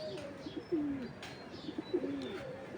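Pigeons perched on a neighbouring house's ledge give two or three soft, low cooing calls with small chirps in between, close by against a quiet outdoor background.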